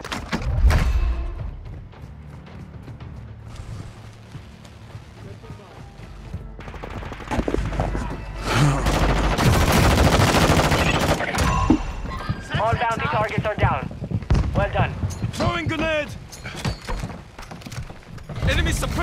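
Gunfire rattles through a Call of Duty: Modern Warfare II match, bursts and single shots scattered across the scene at mixed distances, mostly under busy overlapping voices and game chatter.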